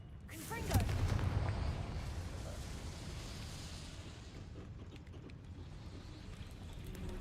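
The Confringo fire spell in Hogwarts Legacy bursts with a sharp blast followed by a deep rumbling boom that lingers and slowly fades, with game sounds rattling underneath.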